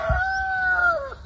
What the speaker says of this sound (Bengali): এই মুরগির ডাক